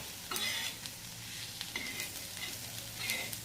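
Mung bean chutney stir-roasting in a pan on a low gas flame, a low crackling sizzle under repeated scraping and stirring strokes of a spatula, close up and with no voices.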